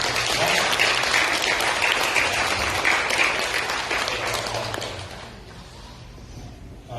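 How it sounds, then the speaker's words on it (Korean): A church congregation applauds its class leaders, a full round of clapping that fills the sanctuary, then fades out near the end. "우리 속장님들 격려의 박수를 드립니다"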